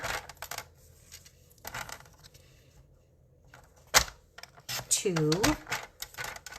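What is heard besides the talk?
paper cardstock being cut into strips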